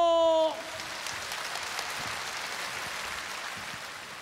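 Studio audience applause at a televised Korean open-air singing contest in Andong, a steady wash of clapping that starts after a brief musical sting and carries on evenly, fairly close and without talk.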